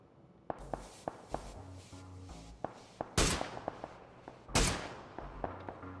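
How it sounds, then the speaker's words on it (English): Gunfire in the video game PUBG Battlegrounds: a string of sharp single shots spaced irregularly, two much louder close bursts standing out among fainter distant cracks, with no talk. "Looks like he's shooting more to the left here."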